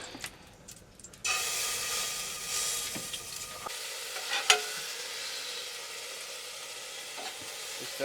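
Whole spices (cardamom, cloves, marathi moggu, bay leaf) and ginger-garlic paste sizzle and fry in a pan inside a truck cab, a sudden loud hiss starting after a quiet moment and then settling into a steady crackling sizzle.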